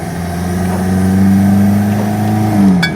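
A Chevrolet S10 pickup with a 2.2-liter turbo diesel pulls uphill in second gear, its engine droning steadily and climbing in pitch under load, heard up close from inside the cab without talk.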